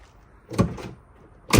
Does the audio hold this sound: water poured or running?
no